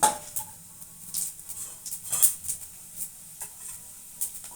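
Chana dal frying in a little oil with coriander seeds and cumin for goruchikkudukaya fry, a quiet close sizzle broken by several short spoon-stirring scrapes and clicks, no talk.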